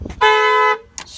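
A single loud, close car horn honk lasts about half a second, followed by brief clatter.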